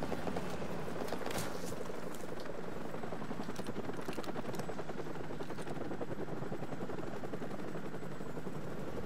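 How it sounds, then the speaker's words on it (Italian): Enemy helicopters approaching in Call of Duty: Modern Warfare, a constant heavy rotor thrum with scattered gunfire cracks, dense and steady throughout with no talking. "Elicotteri nemici in arrivo!"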